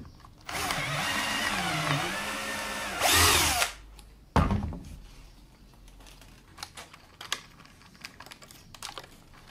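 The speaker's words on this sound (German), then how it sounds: "Bohren wir mal mit 5 auf." A power drill whines steadily for about three seconds while drilling a 5 mm hole in wood, revs higher briefly, then stops, followed by scattered clicks and knocks of handling.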